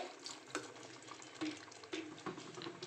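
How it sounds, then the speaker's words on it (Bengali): A small splash of water poured into a pan of simmering prawn curry, with soft trickling and a few brief splashes at close range and no talking. "একটুখানি জল দেব অল্প একটু জল দিয়ে"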